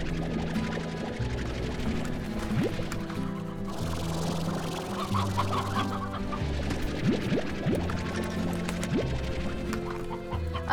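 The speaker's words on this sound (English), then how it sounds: "I love how you can hear the little chickens spawning." Chickens spawning in the video game Slime Rancher cluck repeatedly in short, busy bursts over a steady game music backdrop, several birds close and clear.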